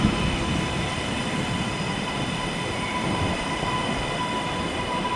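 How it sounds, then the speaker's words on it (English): A class 331 train at Stockport station rumbles steadily with a broad, continuous wash of rail noise and faint high tones, close and constant throughout. "on the other side, a class 331 to Manchester Piccadilly."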